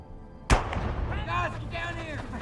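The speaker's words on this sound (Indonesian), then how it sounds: "kedengeran suara tembakan" A single sharp gunshot from the film The Maze Runner: Scorch Trials, a loud sudden crack followed by a sustained ringing, reverberant tail with muffled background sound.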